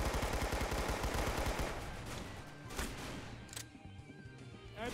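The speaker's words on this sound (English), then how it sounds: "So yeah, we're just gonna shoot him." Rapid gunfire from the Roblox game Arsenal during a boss fight, a dense burst of automatic shots that thins out into scattered impacts and game effects, with no talk.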